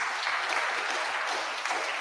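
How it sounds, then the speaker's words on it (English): Steady applause from a gathered congregation at a charity sermon, a dense, even wash of many hands clapping that holds for the whole stretch without pause. "Give yourself a round of applause for giving."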